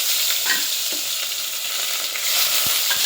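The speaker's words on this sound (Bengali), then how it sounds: "তেল গরম হয়ে গেছে, এখানে দিয়ে দিচ্ছে পেঁয়াজ রসুন" Onion and garlic frying in hot oil, a steady close hiss and sizzle that runs on without a break, with faint stirring underneath.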